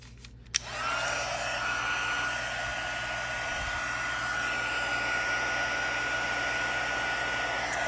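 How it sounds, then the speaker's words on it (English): A heat gun clicks on and runs with a steady, loud airy roar and a high whine that holds unchanged for several seconds, alone and close. "we'll get the heat gun"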